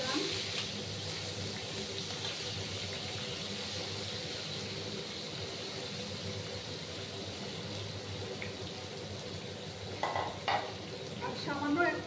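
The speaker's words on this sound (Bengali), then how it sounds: "বেগুনগুলো প্রথমে ভেজে নেব। তার জন্য সামান্য একটু হলুদ গুঁড়ো দিলাম, দিয়ে বেগুনগুলো দিয়ে দেব।" Eggplant pieces with a little turmeric fry in oil in a pan, a steady dense sizzle running throughout with a few clinks and stirring knocks near the end.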